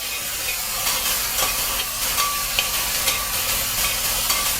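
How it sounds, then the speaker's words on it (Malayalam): Broken wheat sizzles steadily as it is sautéed in ghee in a pan for payasam, a continuous close frying hiss with soft stirring scrapes and small crackles throughout. "ഇത് നമുക്കിതൊന്ന് വഴറ്റിയെടുക്കാം"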